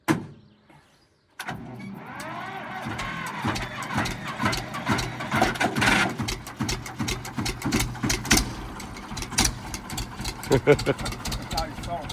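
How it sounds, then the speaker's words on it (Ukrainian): An old tractor that gives off smoke fires up after a brief quiet moment, then runs with a rough, rhythmic engine chug close by. People talk over the engine noise throughout. "дивіться, цей трактор працює"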